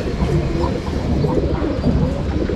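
Pigeons in a loft at a pigeon farm give low, continuous cooing and soft burbling, close and fairly loud throughout, with faint background activity.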